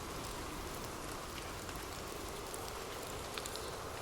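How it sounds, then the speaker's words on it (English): Gentle rain falls softly on leaves as a quiet, steady hiss with faint scattered drop patters, calm and unbroken throughout. "Imagine gentle raindrops falling softly on leaves"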